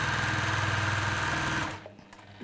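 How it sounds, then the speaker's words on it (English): A sewing machine runs steadily and close, its rapid mechanical needle rhythm stitching fabric loudly for about a second and a half before stopping abruptly, leaving faint room noise. "sorry, I was stitching"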